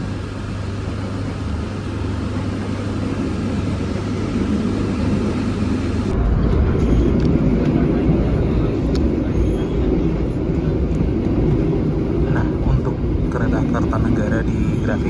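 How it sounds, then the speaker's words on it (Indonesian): Inside the Kertanegara train in Indonesia, a constant low rumble runs through the carriage, with a steady high-pitched whine joining about halfway through and voices talking over the noise. "we would like to welcome you aboard the Kertanegara train Indonesia"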